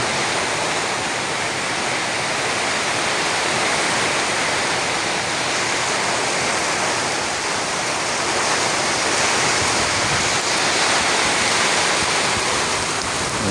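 Heavy rain and strong wind during a Kalbaishakhi nor'wester storm, a dense, steady roar of broadband noise that stays loud and unbroken throughout, with no voices.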